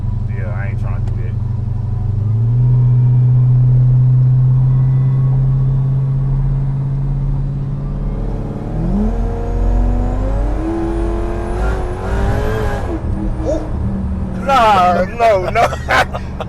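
A Dodge Hellcat with over 1200 horsepower holds a deep loud idle, then revs hard and accelerates with rising, climbing engine pitch, and people talk and exclaim over the roar near the end.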